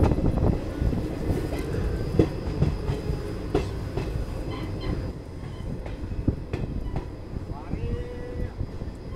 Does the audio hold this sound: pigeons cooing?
no